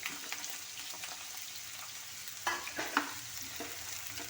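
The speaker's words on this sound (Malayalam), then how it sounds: "എണ്ണ ചൂടായി വരുമ്പോഴത്തേക്ക് ആദ്യമേ വഴുതനങ്ങ ഇട്ടാലും കുഴപ്പമില്ല വെണ്ടയ്ക്ക ഇട്ടാലും കുഴപ്പമില്ല" Brinjal or okra frying and being stirred in hot oil, a steady close sizzle with occasional scraping stirs.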